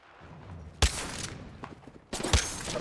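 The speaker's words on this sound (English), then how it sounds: "Out of the 3 shots I had, I only managed to hit one." Two sharp Mozambique shotgun blasts go off in Apex Legends, spaced about a second and a half apart, each a loud crack over low game ambience and faint footsteps.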